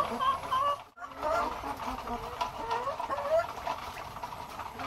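Pure Kabir rooster and hens cluck continuously nearby, a busy mix of clucks and cackles with a brief dip near the start.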